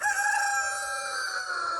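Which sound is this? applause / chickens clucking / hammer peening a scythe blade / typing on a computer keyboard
chickens clucking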